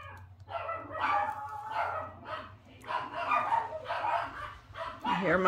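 Dogs bark outside in repeated bursts with some yips and whimpers, heard from indoors at moderate distance, overlapping with a person talking.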